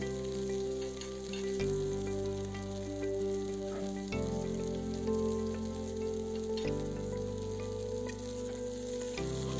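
Taro stolons fry in oil with turmeric and salt, giving a steady loud sizzle and crackle throughout, with occasional shifts in tone as the pan contents are stirred.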